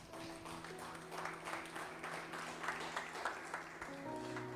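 A church congregation claps together in a quiet, rhythmic pattern during a sermon, with a soft sustained musical tone underneath and the whole scene sounding distant and low.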